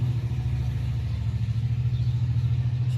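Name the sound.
very loud truck driving past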